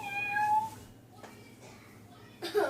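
A wandering house cat meows indoors, a clear drawn-out meow up front, then faint sounds and a short second cry at the end, with some talk nearby.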